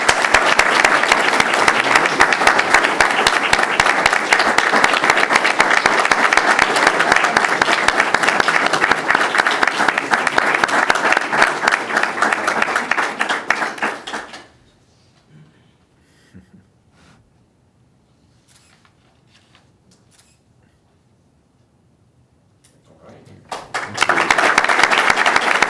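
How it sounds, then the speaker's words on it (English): Loud, sustained applause from an audience at a school district board meeting fills the room for about fourteen seconds, fades into near silence with a few faint noises, then swells back into clapping at the end. "Let's give him a round of applause."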